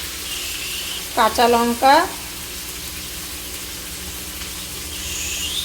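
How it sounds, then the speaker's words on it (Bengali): Potato and drumstick (sajne danta) pieces fry in a pan with a steady, soft sizzle and hiss throughout; a voice speaks briefly in the middle. "আলু আর ডাঁটা ভাজতে ভাজতে আমি এদিকে"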